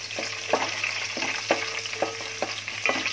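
Oil frying in a pan for a leftover mutton korma dish, an even sizzle broken by sharp periodic stirring taps and scrapes, close and moderately quiet.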